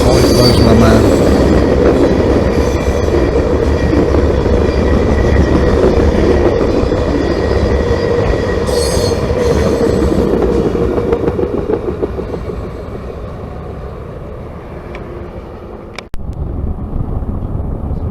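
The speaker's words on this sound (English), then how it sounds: "how much energy is in that train when it's moving this fast" Loaded freight train of gravel cars rushes past at speed, loud and close with a rough roar, rattling wheels and some squeal, easing slightly toward the end before a sharp clunk.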